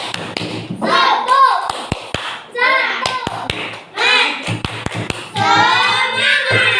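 Children in a Quran lesson perform a rhythmic 'tepuk semangat' clapping chant, sharp claps punctuating loud group chanting in bursts, close and lively.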